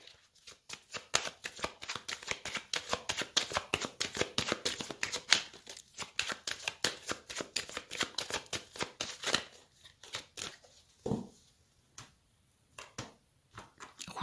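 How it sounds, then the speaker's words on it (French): Tarot cards riffled and cut in a long run of quick crisp flutters and slaps, close and fairly loud, thinning out into a few separate taps near the end, with no voices. "Alors, une coupe avec le tarot."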